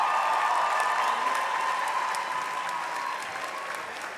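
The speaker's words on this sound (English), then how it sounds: "please give a big round of applause for the graduates from the Practical Nursing Program" Graduates of a Practical Nursing program receive a big round of applause from the crowd at a spring convocation, steady sustained clapping that slowly fades toward the end.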